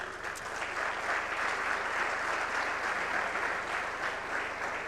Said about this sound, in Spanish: Quiero sumar, luego del aplauso a Diego Bocio,